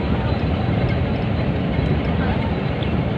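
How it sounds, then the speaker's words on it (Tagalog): An airplane flies near Subic Bay International Airport, a steady broadband roar that holds at a constant loudness throughout, with faint voices in the background. "Ayun pa ang aeroplano."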